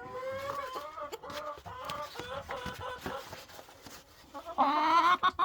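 Several roosters and hens at a backyard coop at night, clucking and calling throughout, with a louder, sustained crow-like call rising near the end; someone speaks briefly among them.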